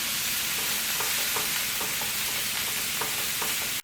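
Ground beef browning in a pan for beef empanadas, a steady close sizzle and crackle with occasional scrapes and stirs of the spoon through the meat, no voices.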